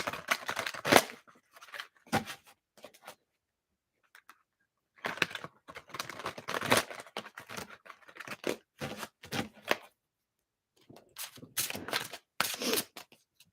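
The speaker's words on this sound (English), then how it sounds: "I'm going to give this a good shuffle" Oracle card deck being shuffled by hand at close range: irregular bursts of crisp papery riffling and slapping, separated by short silent pauses, with no talking.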